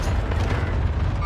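Airstrike explosion in Call of Duty: Warzone, a loud, close, sustained rumbling blast with heavy low-end roar lasting the whole short moment.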